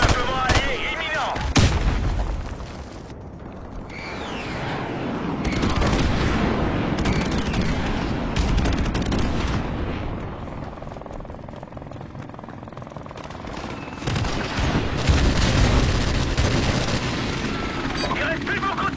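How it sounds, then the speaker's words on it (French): Explosions and gunfire from an allied bombardment in a video game rumble and crack continuously at moderate loudness, with a helicopter-like drone in the mix and waves of heavier blasts. "Bombardement allié imminent."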